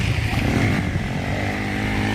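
An off-road stunt motorcycle revs hard at full throttle on a dirt track, a loud, steady engine roar held close for the whole moment without a break.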